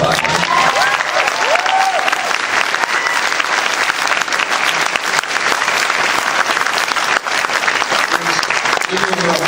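A convention panel audience applauds steadily at New York Comic Con, dense clapping filling the hall throughout with a few voices and cheers mixed in.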